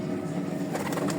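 Pigeons coo in a short burst from a loft after birds were taken out, soft and close, with a low rustling background and no talk.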